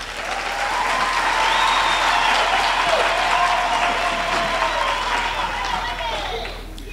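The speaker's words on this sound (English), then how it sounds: "A round of applause for the choir, please." Sustained audience applause for a choir at a university graduation ceremony, a broad, even wash of many hands clapping in a large hall, steady and loud throughout with a slight fade at the end.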